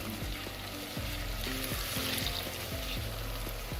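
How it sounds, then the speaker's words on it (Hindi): Onions frying until light brown in a pan for beef aloo matar keema give a quiet, even sizzle close by, with a faint low hum underneath and no speech. "तो मेरी प्याज लाइट ब्राउन हो रही है"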